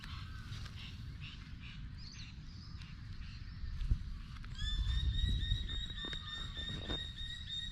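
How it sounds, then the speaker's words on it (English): Currawong calls ring out in a video game landscape of foggy Australian bush with gum trees. Faint, clear, repeated bird notes sound over a low, rumbling background, with other birdsong scattered around. "I can hear currawongs."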